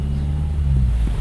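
Toyota Soluna GLI sedan with an aftermarket exhaust gives a steady, bassy low engine drone, close and continuous with no talk.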